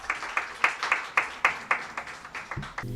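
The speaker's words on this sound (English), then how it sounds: "I want you to give the church a round of applause" A church congregation gives a short round of applause, distinct claps arriving in a loose rhythm of about a dozen sharp hits, moderately near, with a voice beginning to speak as it ends.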